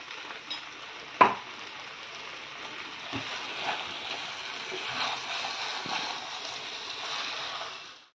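Chicken curry being stirred in a pot for a thin Bengali chicken jhol, with a steady soft scraping and sloshing, a sharp clank of the spoon against the metal near the start, and a few lighter knocks after it.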